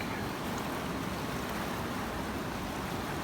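A gold pan shaken in water while panning for gold in bedrock, giving a steady, dense wash of sloshing water with no break, close and moderately loud throughout.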